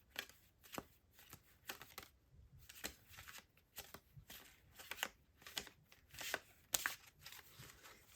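Tarot cards being shuffled by hand in a quiet room, a steady run of crisp riffling and flicking bursts, close and clear, with no talking.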